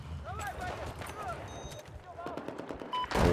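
Gunfire in the video game Battlefield 4, rapid bursts of automatic weapon shots and single reports scattered through the stretch, mixed under someone speaking German, with a louder burst at the end.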